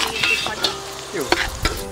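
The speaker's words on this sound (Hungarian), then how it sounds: "A forró zsírhoz folyamatos kevergetés mellett hozzáadjuk a felkockázott hagymát" Diced onion and paprika sizzle in hot bacon fat while being stirred, a crackling fry with scraping spoon strokes and sharp pops close by.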